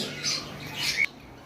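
Shrill squawks and chatter from pet lovebirds and conures at a bird seller's, two bursts in quick succession, fairly close, with a faint low hum underneath and no voices.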